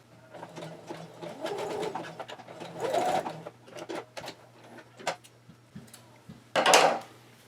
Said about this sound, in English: stitch them together using the same regular presser foot and zigzag stitch that we used to hem